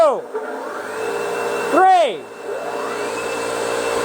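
A vacuum pump runs on a vacuum table, giving a steady motor whine and hum with a rising and falling pitch swoop midway through. No voices are heard over it.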